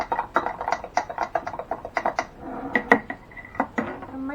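Breakfast ingredients being stirred together in a large glass jar, with a run of quick clinking and scraping taps from utensil against glass, close and fairly steady, with no talking.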